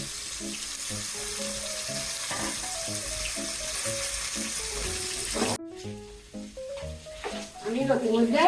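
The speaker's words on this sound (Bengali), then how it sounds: "তেল গরম হয়ে গেছে, আমি পনিরগুলো ভেজে নিচ্ছি।" Paneer frying in hot oil in a home kitchen, a steady broadband sizzle running throughout with background music, cut off abruptly midway and followed by quieter clinking and stirring.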